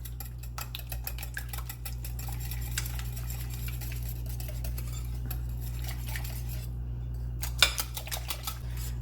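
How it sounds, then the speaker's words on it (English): A whisk beats pumpkin pancake batter with vanilla in a bowl, giving a steady run of rapid metallic clinks and scrapes against the bowl, close and moderately quiet, with no voices. "We're gonna whisk this together too."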